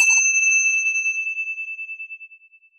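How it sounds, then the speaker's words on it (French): A meditation gong or bell struck once at the start of a seated session, ringing a clear sustained tone that slowly decays over several seconds, alone in silence. "Laissez résonner en vous le son de ce gong"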